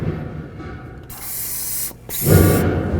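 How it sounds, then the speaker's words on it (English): Two bursts of penetrant aerosol spray hiss close up at a 2009-13 Mazda 3 front wheel bearing, the first long and steady, then a brief pause before a second, rougher spray. "Now let's just spray some penetrant in the localized area."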